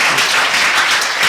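Brief burst of dense audience clapping on a live talk-show program, loud and close, an even wash of many hands with no voices over it.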